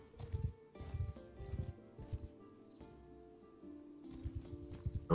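Horses clop through a village in Mount & Blade 2: Bannerlord, with a series of soft, rhythmic hoofbeats over quiet game ambience and a faint musical tone.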